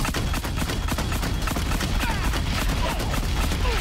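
Rapid mine launcher shots from the video game Horizon Zero Dawn, a dense, steady volley of sharp impacts and blasts packed together over a noisy battle bed, loud and continuous with no pause.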